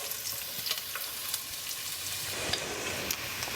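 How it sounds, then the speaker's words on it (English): Chopped onion hits hot olive oil in a pan and sizzles steadily, a close, soft hiss with a few light clatters as it is tossed about. "I'm gonna throw that down into a hot pan. I'm gonna toss down that onion."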